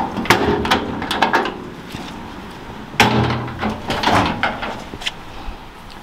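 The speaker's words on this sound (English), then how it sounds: "let's pop the back of the trailer open" Rear door of a Skillcraft Vulcan+ mobile wood-fired pizza oven trailer being opened, giving a couple of close knocking clunks and rattles, then a sharper latch thud midway with further handling noises.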